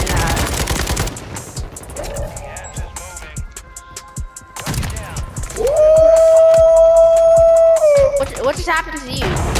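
Rapid automatic gunfire crackles in bursts in Call of Duty Warzone, with a sustained tonal game alert sound and excited voices talking over the shooting.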